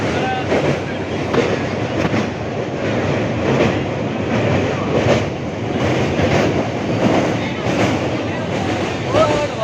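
A moving passenger train heard from inside the carriage, a loud continuous rumble with rhythmic clickety-clack from the wheels over the rails, steady throughout.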